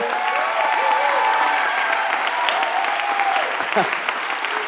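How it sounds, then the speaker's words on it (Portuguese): An audience at a church leadership gathering in Milan claps loudly and continuously, with a voice speaking and sustained tones ringing over the applause. "Pode dar uma salva de palmas forte?"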